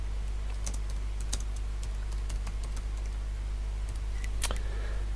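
Typing on a computer keyboard while entering a photo caption in captioning software, with scattered key clicks and a few sharper taps over a steady low electrical hum.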